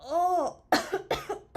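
Two sharp, close coughs follow a short voiced exclamation, each burst brief and harsh.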